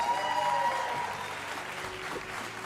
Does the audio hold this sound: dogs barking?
no